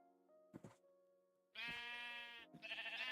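A sheep in a Minecraft-style game gives a short bleat, then after a pause a longer, loud, wavering bleat and a final bleat, close and clear, with no talk.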